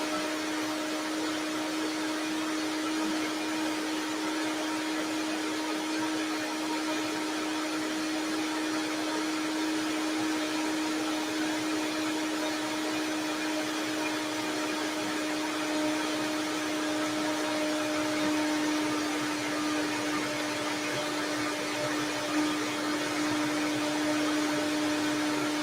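A blender whirring steadily while making vegan coconut ice cream, a loud constant motor drone with a high whine that holds unchanged for the whole stretch, no voices over it.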